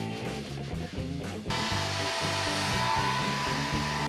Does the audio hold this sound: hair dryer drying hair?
yes